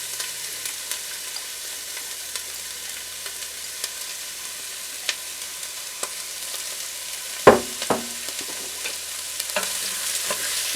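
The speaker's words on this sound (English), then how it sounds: "It says to cook the onions until they are tender and slightly colored." Two sliced onions frying in extra virgin olive oil in a pan, a steady soft sizzle with occasional stirring clatter and a couple of sharper utensil knocks, close and alone without talk.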